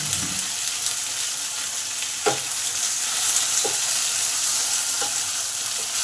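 Rohu fish frying in oil in a pan, a steady close sizzle running throughout with a few soft clinks and spatters from handling.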